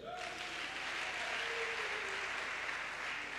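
A church congregation at a worship service breaks into sustained applause, a dense, even wash of clapping from many hands lasting the whole moment.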